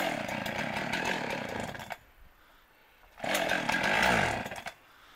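Chainsaw used for felling a big pine, running loud and close in two bursts of revving, cutting to a quiet idle for about a second in between before roaring up again.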